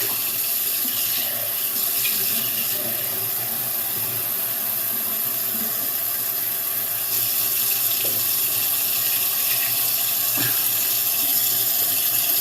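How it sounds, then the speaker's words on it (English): Tap water pours steadily into a pot for five cups of water, a loud, continuous rushing splash that runs unbroken throughout, with no talk. "we're gonna add about 5 cups of water."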